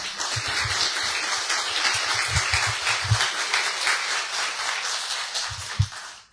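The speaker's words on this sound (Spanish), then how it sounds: "Fuertes aplausos, por favor" Applause welcoming a military commander at a university conference, a crowd clapping steadily at moderate volume with some low thumps and handling noises scattered beneath, ending abruptly.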